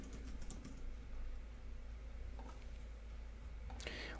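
Quiet typing on a computer keyboard, a few faint scattered key clicks over a low steady room hum, with a sharper burst of clicks near the end.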